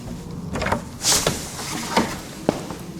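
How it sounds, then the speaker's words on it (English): A fire door swings open from a model train room into a workshop, giving a short whoosh and creak midway with a few light knocks and clicks around it, close and moderately loud in a quiet room. "Opening up the fire door into my workshop area."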